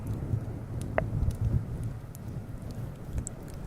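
An ASMR coconut rain trigger: a soft, continuous patter of rain-like tapping and rattling, close and fairly quiet, with a few brighter ticks scattered through.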